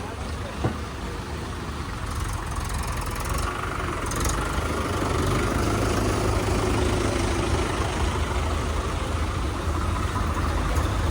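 Tractor engines idle together in a steady low rumble at a crowded relief site near the flooding Sutlej river, with people talking throughout.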